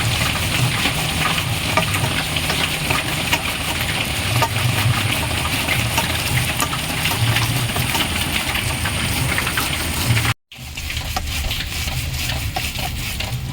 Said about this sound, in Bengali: তালটা ঘষে এবার আমি তালের পানটাকে বের করে নেব।